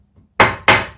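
Two sharp, loud wooden knocks about a third of a second apart as a timber noggin is tapped tight into place while boxing in an RSJ, each ringing briefly, preceded by a faint tap.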